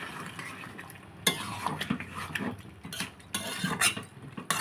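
Chicken curry is stirred in a pot after warm water is added, with irregular scraping and clinking of a utensil against metal over a low bubbling sizzle, louder in uneven bursts.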